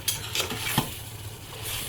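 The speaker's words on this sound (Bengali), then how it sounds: "মশলাটা কষিয়ে নিলাম, এখন মাছটা দিয়ে দিব।" Katla (rohu-like carp) head and fish pieces dropped into a pan of fried spice paste, giving a soft sizzle with brief scraping stir strokes and a light clink near the end, close and moderately quiet, no talking.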